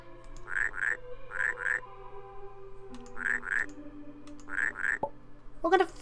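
Paired croaks from frogs in the puzzle game Rusty Lake: Paradise repeat in a steady rhythm over a low droning game ambience, clear and close, with no talk.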